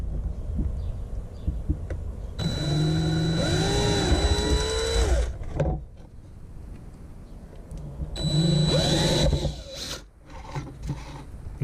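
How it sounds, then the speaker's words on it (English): Two bursts of a power drill whirring at high speed, each lasting a few seconds, separated by a quieter pause, drilling speaker mounting holes in a 2018 Mercedes Sprinter 4x4. "we got to drill holes"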